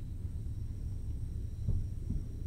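A Class 801 train on the East Coast Main Line in Train Sim World 4 running at about 125, heard as a faint, steady low rumble with a slight surge partway through.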